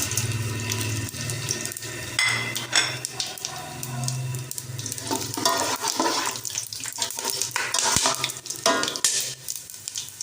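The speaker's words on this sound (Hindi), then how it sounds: "इस टाइम पर आकर हम इसके अंदर शामिल करेंगे खड़े मसाले, जिसके अंदर है हमारे पास काली मिर्च, ज़ीरा, धनिया, बड़ी इलायची, लौंग, दालचीनी के टुकड़े और तेज़पत्ता।" Whole spices, including black pepper, cumin, coriander, black cardamom, cloves, cinnamon pieces and bay leaf, sizzle and crackle steadily in warm oil for a vegetable pulao, with clattering stirring and scraping in the pan.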